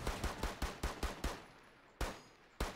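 Rapid gunfire in Rainbow Six Siege ending in a headshot, a quick burst of about seven evenly spaced shots followed by two single shots after a short pause, crisp and close.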